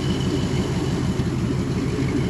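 A 1957 Pontiac Star Chief engine idling steadily and evenly, a low continuous rumble with no misfires, close and moderately quiet with no voices.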